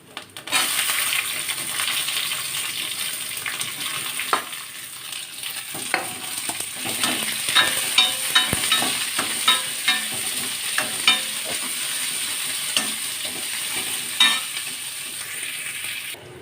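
Two large onions sizzle steadily in a hot pan for an ivy gourd stir-fry, with a spatula's clinks and scrapes popping up irregularly over the continuous frying hiss; no one speaks.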